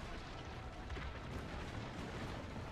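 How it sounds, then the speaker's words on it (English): Cannon fire in Assassin's Creed Brotherhood as siege towers are shot from a villa's defenses, a faint, rumbling, continuous barrage of booms. "Ezio needs to man the cannon and fire its siege towers to protect the villa"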